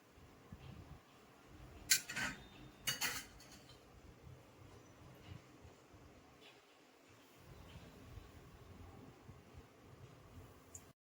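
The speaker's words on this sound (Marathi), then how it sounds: "तर आताही आपण एका प्लेटमध्ये काढून घेऊयात" Fried bhajis are lifted out of an iron kadhai onto a plate for a Khandesh-style bhaji amti. Two quick metallic clinks and scrapes rise over a quiet, hissy kitchen background.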